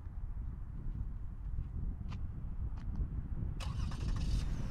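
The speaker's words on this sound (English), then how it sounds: "the car would start in a bit" A 2020 Lexus RX 350 engine turns over and starts up by remote start, its low rumble steady beneath a brief burst of higher clatter near the end; no one speaks.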